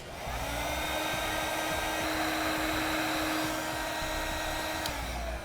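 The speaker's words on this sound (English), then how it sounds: "Now we'll use a heat gun, which we have available on our website." A heat gun blows steadily as it shrinks the tubing on a butt connector during a brake-light relay kit install on a 2014 vehicle, a continuous loud whooshing drone with a fan whine, alone and unbroken.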